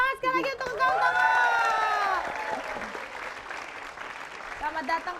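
A crowd cheers and whoops loudly, then breaks into sustained clapping, with excited voices mixed in.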